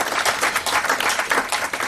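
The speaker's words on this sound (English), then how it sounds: "a big round of applause for this big Lifetime Achievement Award" Audience applause for a lifetime achievement award from the BCCI, a dense, steady burst of many hands clapping at moderate loudness throughout.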